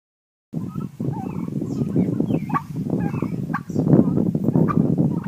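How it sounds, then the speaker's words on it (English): Turkeys and Cornish cross meat chickens outdoors make a dense, continuous chorus of clucks, chirps and occasional gobbling calls, fairly close and steady throughout with no speech. "One thing I like to do with my meat birds, whether it be turkeys or the Cornish cross"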